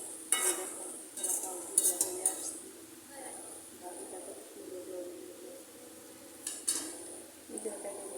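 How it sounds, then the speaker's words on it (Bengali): A spoon scrapes and clinks against a pan as bhaji of fried vegetables is stirred, with short metallic scrapes in bursts over a faint sizzle, close and moderately quiet. "আবারও আমরা নেড়ে দিচ্ছি।"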